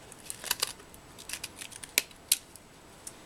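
Small scissors snip paper to trim a handmade spring card. Several quick, crisp cuts come close up against a quiet room, with no talking.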